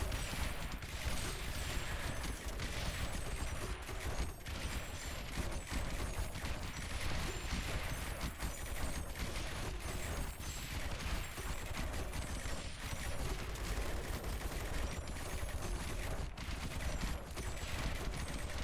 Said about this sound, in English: Here come these fucking missiles.